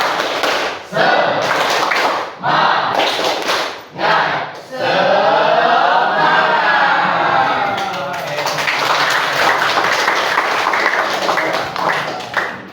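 A school class claps in a quick rhythmic pattern, with bursts of cheering voices between the claps, loud and close.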